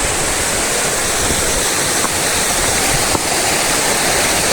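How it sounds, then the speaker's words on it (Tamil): Theerthaparai waterfall pours in a steady, dense roar of falling water, loud and close, filling the whole stretch without pause or voices. "இது அதுலேருந்து விழுற ஒரு அருவியா?"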